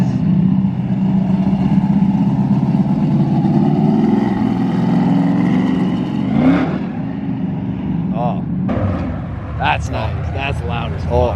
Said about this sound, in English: it's that Mustang with the big ass tires